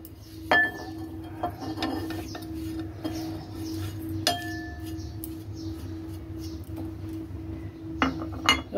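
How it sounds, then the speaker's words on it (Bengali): Potato, raw banana, chili powder, salt, garam masala, cumin-coriander powder, turmeric and gram flour are mixed together in a bowl. A utensil clinks against the dish in scattered, sharp knocks over a quiet background. "আমি এখন এগুলো সব একসাথে মেখে নেব"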